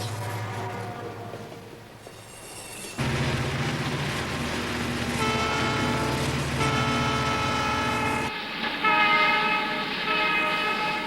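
Five heavy Southern Pacific freight locomotives rumble and drone steadily, climbing a 7,000-foot Sierra Nevada pass toward Donner Pass, loud and close, with sustained tonal horn-like harmonics and grinding mechanical noise throughout.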